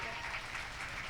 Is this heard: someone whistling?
no